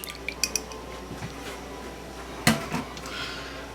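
A mixing bowl is set out on a kitchen counter while preparing meatballs, giving a sharp clunk with a brief clatter of dishes and utensils, close and moderately loud against quiet room noise.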